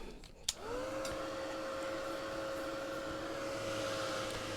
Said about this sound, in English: Fortunately, I have a heat gun.